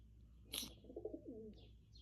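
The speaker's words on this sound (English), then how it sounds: "Look, the Pigeon just yelled at me." A single pigeon gives one short rolling coo, quiet and near, over a faint steady background hum, with no voices.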